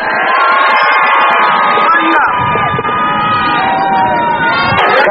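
A large crowd of children screams and cheers at a 1988 kids' event, loud and sustained throughout, with shrill overlapping voices and whoops filling the space.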